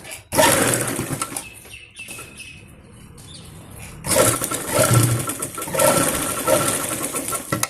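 A sewing machine stitches the shoulder seam of a small girl's shrug in bursts, a rapid whirring run, a quieter pause with fabric handling, then longer loud stitching runs up close.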